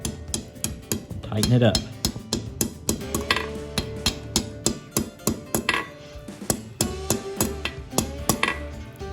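A hammer strikes hot steel to forge a pigtail curl on the end of a coal rake, rapid ringing metallic blows in a steady rhythm on an anvil, close, with a brief spoken remark.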